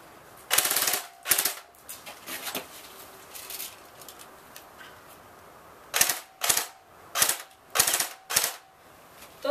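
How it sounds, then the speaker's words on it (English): An airsoft gun fires at a thread at close range. Sharp snapping shots come singly and in quick clusters, separated by short pauses. "Doesn't seem like this airsoft gun has the power to break this thread."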